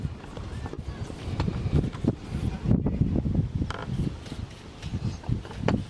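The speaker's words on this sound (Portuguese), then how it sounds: "tá muito vento" Strong wind buffets an outdoor spot where people fly kites, loud gusty roar and microphone rumble with irregular thumps and knocks, while voices talk close by.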